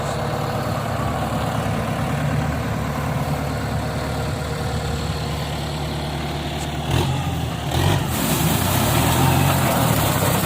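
A heavy diesel engine of a Kubota M95 tractor running a mower runs steadily at a low, rumbling throttle, with a brief rise in noise and clatter toward the end.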